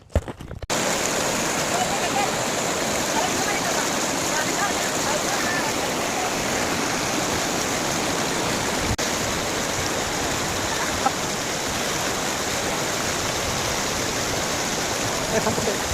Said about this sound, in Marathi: तर आम्हाला ना आवाज येते धबधब्याचा या बाजूने